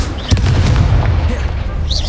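In Hogwarts Legacy, an Incendio fire spell goes off as a single sharp booming blast, then a roaring, crackling burst trails off over about two seconds, loud and close.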